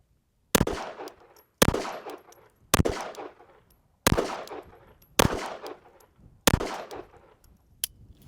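Six sharp gunshots from a 1917 .32 pistol, fired at a slow, roughly even pace about a second apart, each a loud crack followed by a short ringing decay outdoors.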